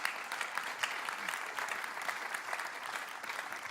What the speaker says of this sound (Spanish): Dele un aplauso a Dios por eso.